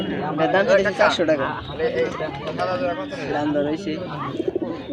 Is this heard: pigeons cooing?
yes